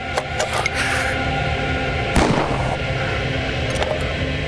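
A few sharp gunshots crack out over a steady background din, one louder blast standing out near the middle.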